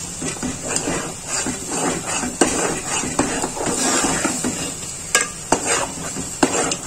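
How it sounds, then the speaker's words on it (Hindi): Something roasts in ghee in a pan while a spoon stirs and scrapes, giving a continuous soft sizzle broken by sharp metallic clinks and taps against the pan. "अभी तो मैं भून रही हूँ"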